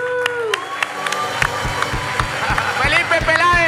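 A talk show studio audience claps and cheers for a Colombian singer, loud, dense applause with shouts and whoops building steadily, while a voice talks over it.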